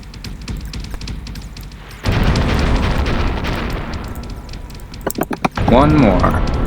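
Gunfire and explosions from an alien-hunting space combat video game, a steady loud roar of blasts and shooting that jumps louder partway through, with someone talking over it.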